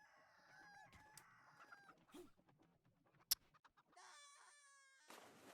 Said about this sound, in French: Ça c'est le poulet, non?